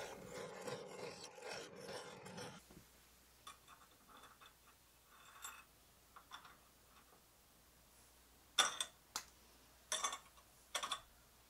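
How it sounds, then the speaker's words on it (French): A countersink bit cutting a screw hole in wood: after a brief louder burst at the start, a series of short raspy grinding scrapes, quiet and intermittent, ending in a few sharper rubs. "puis je fraise pour noyer la tête de vis."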